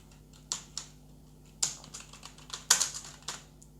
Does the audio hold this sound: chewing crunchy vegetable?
no